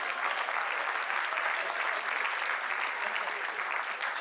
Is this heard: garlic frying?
no